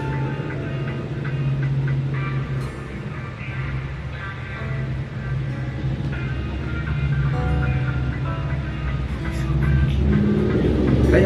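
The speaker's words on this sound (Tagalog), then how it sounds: "Ay, ang ingay ng trike" A motorized tricycle passes noisily nearby, its rough engine drone rising and falling under background music and swelling louder toward the end.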